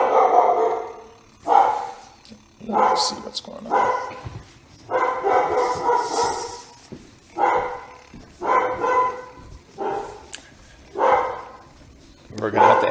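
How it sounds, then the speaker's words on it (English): A pet dog barks repeatedly indoors in bursts of loud woofs spread across the clip, interrupting a lecture, with someone speaking between and over the barks. "Well, that's my doggy wog."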